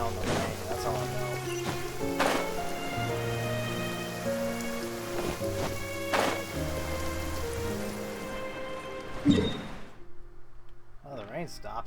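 Steady rain in Genshin Impact, a constant soft hiss under layered game music, with occasional sharper accents, fading out near the end as the music drops away.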